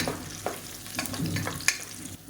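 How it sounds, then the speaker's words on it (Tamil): Chopped radish and green chillies sauté in hot oil, a soft close sizzle broken by several scrapes and clinks of a spoon stirring the pan, with no voices. "இப்போ இதில் ஒரு கப் அளவுக்கு முள்ளங்கி கட் பண்ணி வச்சுருக்கேன் அதை சேர்த்துக்கலாம் இப்போ எண்ணெயிலே நல்லா வதக்கி விட்டுக்கலாம்"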